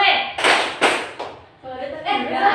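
A classroom of middle-school children clap together in a rhythm game, three or four sharp bursts of group clapping separated by a teacher's spoken cues, loud and close.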